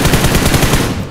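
Rapid bursts of automatic gunfire in PUBG Mobile, loud and close, rattling in a fast regular rhythm for about a second.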